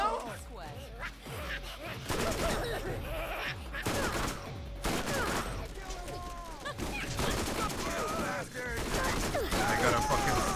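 Rapid, repeated fast-firing shotgun blasts from a Borderlands firefight, dense bursts of gunfire with chaotic in-game effects, loud and close, mixed with voices.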